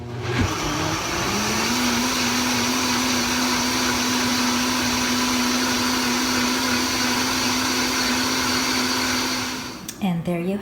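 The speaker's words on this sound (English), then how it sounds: "This blender just warms things up to roughly a boil." A heating blender runs steadily on tomato soup, a loud, even motor whine and whoosh holding constant for about nine seconds before it winds down and stops.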